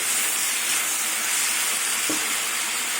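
Spinach and other vegetables fry under a lid in a pan, giving a steady broad sizzle and hiss with a brief soft knock partway through, and no one talking.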